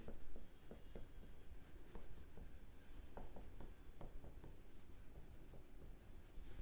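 A pen scratches steadily across paper while an accounts practical problem is worked out, a continuous close rustle of strokes and small taps with no talking.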